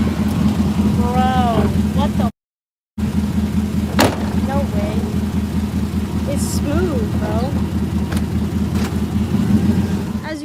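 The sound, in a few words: Chevrolet Silverado truck engine driving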